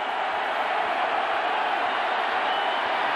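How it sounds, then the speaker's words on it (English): Football crowd at the Carrier Dome, Syracuse hosting Florida in 1991, roaring steadily on its feet during a third-down play, a dense sustained wash of cheering and shouting with no breaks. "This crowd is on their feet."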